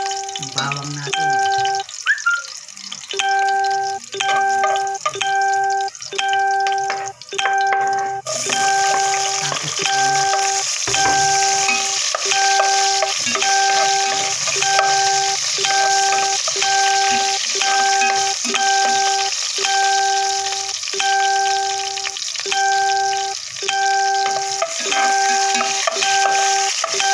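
Garlic sautéing in a pan for kinamatisang baboy, with a steady bright sizzle running throughout and intermittent stirring scrapes, close and loud, with a repeating electronic tone pattern over it.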